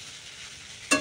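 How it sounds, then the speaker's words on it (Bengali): Pasta with Maggi masala sizzles softly in a hot pan, then a spoon gives one sharp scraping stir near the end, up close. "এইবার আমি সুন্দর করে নাড়ব।"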